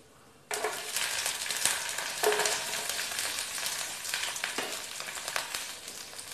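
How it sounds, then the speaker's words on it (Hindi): Cumin seeds and garlic frying in a little hot oil in a small kadhai: a steady, close crackling sizzle that starts abruptly and keeps up with bright pops, without talk. "इनको हम फ्राई करेंगे।"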